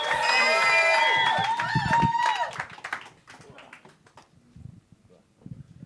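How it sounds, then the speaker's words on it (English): In a Liverpool comedy club, cheering and scattered clapping ring out briefly under loud music and shouting, then fade quickly to sparse claps and quiet room noise. "Keep coming, keep clapping."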